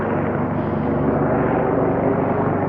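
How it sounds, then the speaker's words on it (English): A helicopter flies over desert hiking country near Borrego Springs, a loud, steady rumbling engine and rotor drone that holds constant, with no voices. "The helicopter's out here to rescue me."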